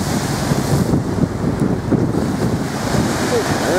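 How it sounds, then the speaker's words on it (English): Ocean waves wash in steadily beside a beach road, a broad, rushing surf noise heavily mixed with wind buffeting the microphone, constant and fairly loud without clear individual breaks. "Waves are pretty nice."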